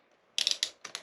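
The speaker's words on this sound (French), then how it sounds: "le troisième outil, le cutter" A utility knife's blade being pushed out, giving a few quick, crisp ratchet clicks in two short bursts, close and fairly quiet.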